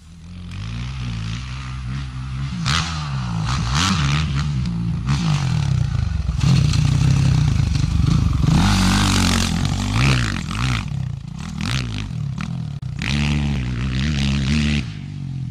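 A motocross dirt bike races a track over jumps and a double into a corner, its loud engine revving and dropping in waves with throttle blips and brief lulls between bursts, close and continuous.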